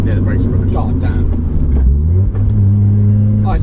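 Supercharged Mazda MX-5 engine revving through a rev-matched downshift, a loud, close in-cabin drone whose pitch shifts mid-way, with people talking over it.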